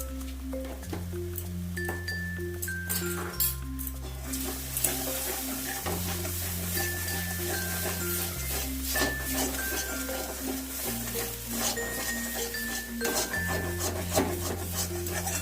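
Ground cumin and coriander being stirred in a frying pan over low flame for a cauliflower roast, a soft continuous scraping and faint sizzle under steady background music.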